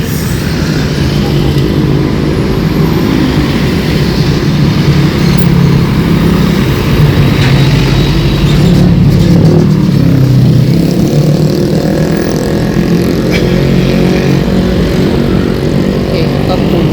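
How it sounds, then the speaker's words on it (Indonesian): Heavy, busy road traffic with many trucks rolls past at close range, making a loud, continuous engine roar and rumble. A voice talks over it at times. "di sini banyak truk lagi nih"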